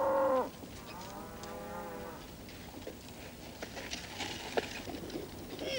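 Cows lowing in a barn at milking time, one clear moo at the start followed by a longer drawn-out bellow, with soft rustling and shuffling around them.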